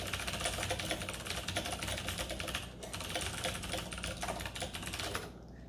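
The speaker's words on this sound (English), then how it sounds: "Yeah, mechanical keyboard, yep." Rapid, continuous clacking of a mechanical gaming keyboard, close and fairly loud, with dense keystrokes and a brief pause before the typing resumes and then stops.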